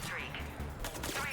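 Rapid gunfire crackles in Mass Effect 3, a dense, steady fusillade of overlapping shots sitting low in the mix.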